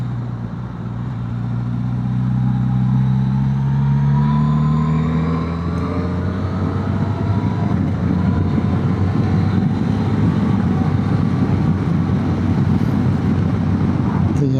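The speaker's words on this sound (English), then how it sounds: "Whether you're on the throttle, off the throttle, the engine is very smooth." A Suzuki GSX-S1000GX motorcycle engine on the move, a loud, steady droning hum that rises in pitch early on before settling into constant cruising over rushing wind noise.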